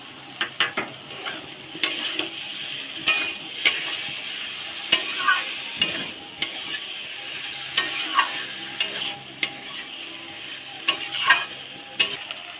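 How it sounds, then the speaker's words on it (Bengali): Cashews, peanuts and raisins are stirred through a cooked-down masala in a pan, the contents sizzling gently while a spoon scrapes and clinks against the metal in uneven, repeated strokes, close up with no talking. "কষার মুখে দিয়ে দেবো কাজু আর বাদাম আর কিশমিশ"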